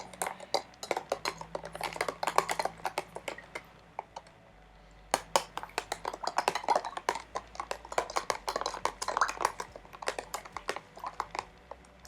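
A spoon clinks and scrapes rapidly against the inside of a glass while stirring sugar into water, in quick irregular bursts with a short pause midway, fairly close and without speech.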